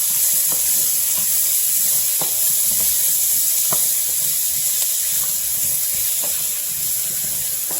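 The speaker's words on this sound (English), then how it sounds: "Now I'm sure you can hear the sizzle, and that's what you want." Steady hissing sizzle of fresh vegetables stir-frying in a hot pan, constant and close, with faint occasional pops and no talking.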